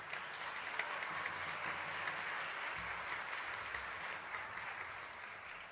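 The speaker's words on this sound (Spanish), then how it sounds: "Aplausos." Audience applause for a guitarist being introduced at a harp festival concert in Asunción, Paraguay, steady crowd clapping heard from a distance, fairly faint and even, with a low hum underneath.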